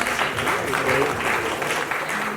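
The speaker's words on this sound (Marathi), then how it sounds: "अरुणजींसाठी एकदा जोरदार टाळ्या व्हायला." Audience applause at a Marathi film music and trailer launch event, a steady sustained clapping from a crowd that holds at an even level throughout.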